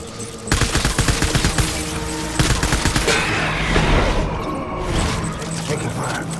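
Rapid bursts of automatic gunfire in the Death Stranding video game, loud and close, with a clipped voice calling out over the shooting and a rumbling tail afterward.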